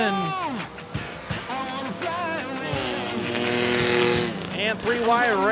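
Race cars roar and accelerate hard at the green flag of a powderpuff feature at Rockford Speedway, a loud continuous engine wall with rising whines from several cars passing close, under an excited announcer's voice.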